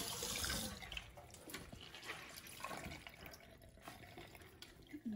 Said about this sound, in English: So what you do is you're just gonna run them under water.